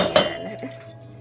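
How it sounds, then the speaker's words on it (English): A bowl dropped into a cooking pan gives one sharp clink early on, followed by a brief ringing tail and faint kitchen background. "You have to drop the bowl in the pan."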